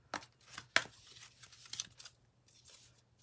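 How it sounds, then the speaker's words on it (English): Large, slippery oracle cards being shuffled by hand: irregular papery slaps, riffles and soft crinkling bursts, close and fairly quiet, with no talking. "These are the hardest cards I've ever had to shuffle. They're so slippery and so big."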